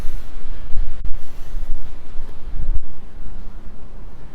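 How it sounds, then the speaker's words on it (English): Wind buffets the microphone in low, uneven rumbling gusts while walking in downtown Regina, with a few sharper bumps of handling noise; no one speaks. "Windy, that's what that was."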